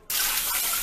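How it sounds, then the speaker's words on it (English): Water pours steadily and close into a pressure cooker over seasoned meat, a continuous bright gushing splash with no voices. "So I'm going to add my water to this and cook it the traditional way."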